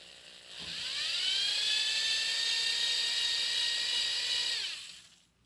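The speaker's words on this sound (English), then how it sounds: "I'm hitting it with this ultra fine polish and using the blue foam finishing pad." Power polisher with ultra fine polish and a blue foam finishing pad buffing a Ludwig Vistalite acrylic drum shell, a single high whine that spins up, holds steadily for several seconds, then winds down.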